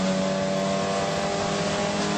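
Ford Fiesta XR2 racing in a wet classic stock hatch race at Brands Hatch, its engine droning loud and steady at high revs with constant harmonic buzz throughout, no pauses or gear changes evident.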